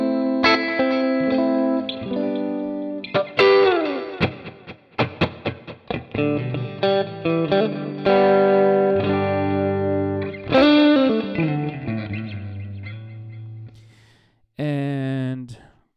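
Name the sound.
clean electric guitar tone, Stratocaster through Mesa-based amp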